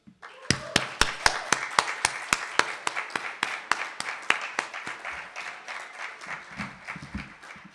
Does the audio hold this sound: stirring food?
no